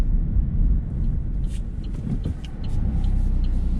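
Cars pass by in street traffic near the Brandenburg Gate in Berlin, a steady loud engine and tire rumble close by with no break.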